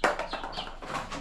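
A chicken clucks continuously and close by, with repeated short squawking calls filling the moment and no other sounds competing.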